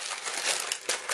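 Baking paper crumpled by hand while making a decorative Christmas table candle, a continuous close crinkling and rustling that swells and briefly pauses before resuming, with no speech.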